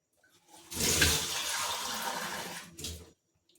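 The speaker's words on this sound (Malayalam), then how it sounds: "കുറച്ച് വെള്ളം ഒഴിച്ച് കൊടുക്കണം" Water pours steadily for about two seconds into a hair-pack mixture, a close splashing stream, followed by a brief second splash before stopping.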